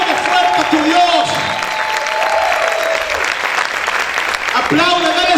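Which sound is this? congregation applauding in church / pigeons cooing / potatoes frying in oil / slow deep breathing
congregation applauding in church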